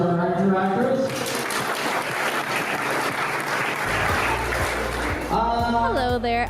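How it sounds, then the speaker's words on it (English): A crowd gives a round of applause for the interactors at a Rotary Club of Richmond event, a dense, steady clapping lasting several seconds, with voices speaking before and after it. "a big round of applause for our interactors"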